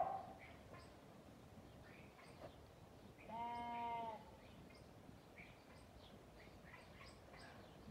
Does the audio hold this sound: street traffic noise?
no